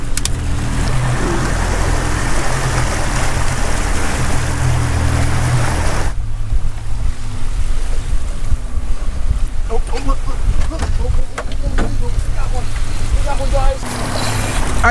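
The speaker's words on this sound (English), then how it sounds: "Stop the motor." A fishing boat motor runs offshore in Florida during shark fishing, a loud steady drone mixed with wind buffeting the microphone; the engine tone drops partway through, leaving wind and water noise.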